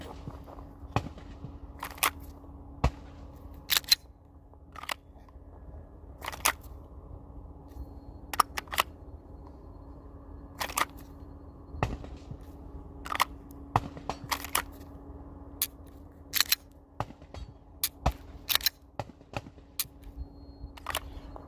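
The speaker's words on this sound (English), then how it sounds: "let's just do some draws, see how the holster releases, see how the angle is set up, and then do just some quick preps and dry fire presses of the trigger" Glock pistol holster draws and dry-fire trigger presses, heard as sharp, scattered clicks and snaps at irregular intervals over a quiet room hum, close and fairly faint, with no talking.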